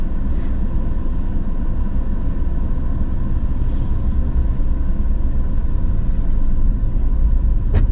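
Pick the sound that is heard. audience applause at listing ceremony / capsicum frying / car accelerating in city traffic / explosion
car accelerating in city traffic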